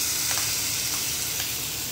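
Rava batter in half a teaspoon of hot refined oil, an even, close hiss of sizzling with faint soft bumps, no voices.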